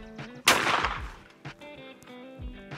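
A single loud close shotgun blast fired left-handed at a clay target outdoors, sharp crack with a decaying tail, followed by faint handling clicks.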